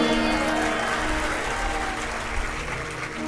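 An audience claps during a live Hindu religious discourse, a dense, continuous patter of many hands in a large gathering, with some tonal background sound running underneath.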